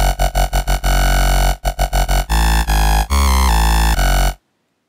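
Formant bass synth patch built in Native Instruments Massive, with a boosted high shelf: loud, buzzy vowel-like bass notes in a choppy rhythmic pattern, short stabs then longer sliding tones, cutting off abruptly to silence.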